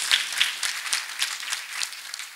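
A church congregation claps along in a quick, rhythmic burst of applause, fairly loud and close, keeping a steady beat for a couple of seconds.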